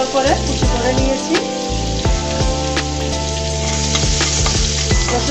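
Minced garlic, two cloves, sizzling and crackling in hot oil in a pan, a steady loud fry with scattered pops and stirring clatter, no talking.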